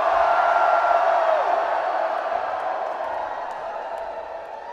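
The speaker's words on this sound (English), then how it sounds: "I want you to fucking put your hands in the air and cheer as loud as possible" Shihad's concert crowd at Auckland Town Hall roars and cheers with hands in the air, a dense, loud wall of voices and whoops that slowly fades.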